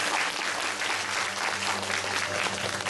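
Audience at a school music award ceremony applauding to welcome a township head as guest of honour, a steady dense clapping from a large crowd throughout.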